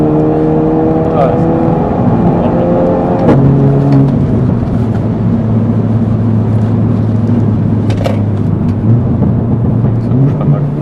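Renault Mégane 4 RS sports hatchback engine pulls hard under acceleration, a steady loud drone that climbs in pitch through gear changes, heard from inside the car with people talking over it.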